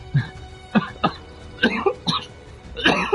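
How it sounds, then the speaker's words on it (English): A person coughs repeatedly in short, sharp bursts, close and fairly loud, with brief pauses between the coughs. "I had a coughing frenzy"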